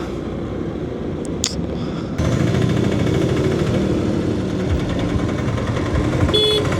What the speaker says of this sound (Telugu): ఏంటి ఇంత ట్రాఫిక్ ఉంది ఇక్కడ